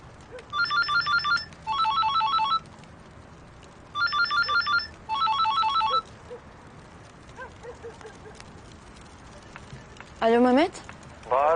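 A telephone rings in four bursts of rapid electronic trills, two close pairs in the first six seconds, fairly loud and alone, then quieter sounds and a brief voice near the end.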